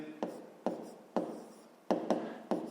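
A pen or pencil writes on paper in a series of short strokes, about six taps and scratches in close succession, near and fairly quiet, with no voice over them.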